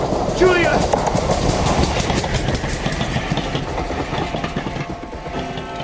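A ghost train sound effect from a radio drama rumbles and clatters past, loud and steady throughout, with voices calling out over it.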